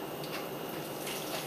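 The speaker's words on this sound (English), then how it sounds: "And then you pour in your 12 ounces of light soda." Light diet soda poured into boxed cake mix gives a soft, continuous fizzy trickle with a faint splashing texture, quiet and brief with no talking.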